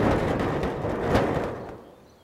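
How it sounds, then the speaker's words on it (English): A sheet of metal is shaken to fake thunder, giving a broad, loud rumbling roar that swells near the middle before fading away, alone without voices. "Rattle the metal sheet for thunder."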